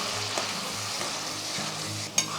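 A masala sizzles in hot oil in a pan for an eggplant (vangi) bhaji, with a steady frying hiss broken by soft stirring scrapes and one sharp clink of a utensil near the end. No one speaks.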